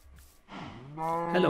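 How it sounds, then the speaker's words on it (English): Cows moo close by, a low drawn-out lowing call that rises in strength after a brief quieter start. "Hello, cows."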